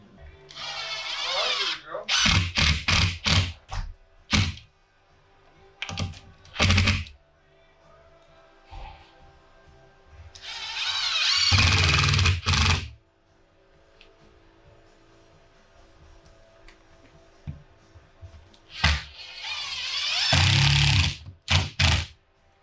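A screw gun drives screws into a sheet of drywall in loud bursts: quick repeated whirring pulses, then longer sustained runs, separated by quieter gaps of handling and faint background noise.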